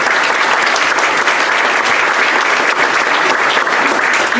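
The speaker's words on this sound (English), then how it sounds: "we can give a round of applause, a standing ovation without standing up" A Rotary meeting audience claps steadily and loudly in a dense, continuous round of applause that holds for several seconds without letting up.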